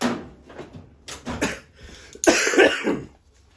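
A person coughs repeatedly at close range, several harsh bursts and throat clearing, ending in a louder, rougher coughing fit.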